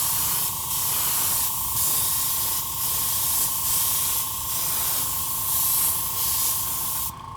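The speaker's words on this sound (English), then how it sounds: "Now the air from the airbrush will not blow it away." An airbrush spraying paint onto Nerf blaster parts taped down on double-sided tape, a steady close hiss of air and paint with faint rhythmic pulsing, running continuously before cutting off at the end.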